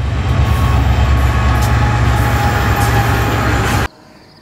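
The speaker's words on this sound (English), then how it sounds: "Why is this train not slowing down?" Freight train on a highline route between Fargo, North Dakota and Whitefish, Montana, rushing past at speed, a loud, steady rumble and rattle of wagons that cuts off abruptly near the end.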